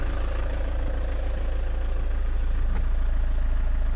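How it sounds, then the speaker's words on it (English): A Vauxhall Omega 2.2 DTi diesel engine ticks over at a steady, smooth idle, close and continuous with an even low rumble and no talk. "you can hear it's quite smooth when it's ticking over"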